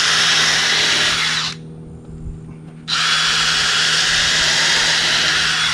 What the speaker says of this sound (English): I'm going to drill 2 holes in each side right now